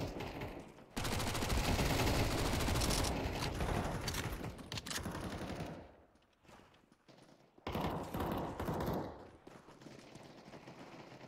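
Gunfire in Counter-Strike 2 comes as dense, loud bursts of rapid shots that fade into a quieter stretch before another volley.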